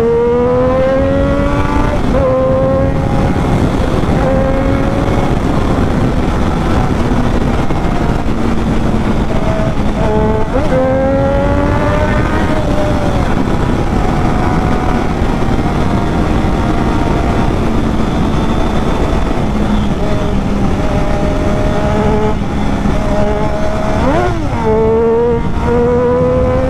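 Triumph Daytona 675R sport bike accelerating hard through the gears, loud close engine tone climbing in pitch with several sharp drops at upshifts, continuous wind rush underneath.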